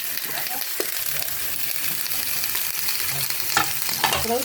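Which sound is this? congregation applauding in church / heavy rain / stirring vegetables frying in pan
stirring vegetables frying in pan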